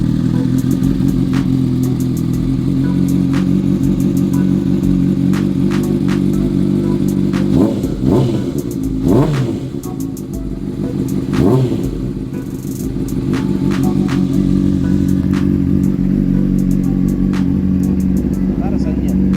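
A Honda CBR600 motorcycle engine with reported issues idles steadily and loudly close by, a continuous low rumble with a few brief rev swells in the middle. People talk over it.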